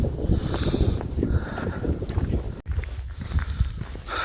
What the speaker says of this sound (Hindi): ये फॉरेस्ट में जब हवा चलती है ये उसका है।